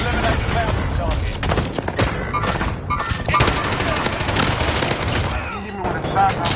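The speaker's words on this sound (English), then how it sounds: "He hit me with a shotgun" Gunfire crackles throughout a Warzone match, dense bursts and sharp reports layered over one another with some booming thuds, loud and continuous for several seconds amid in-game noise.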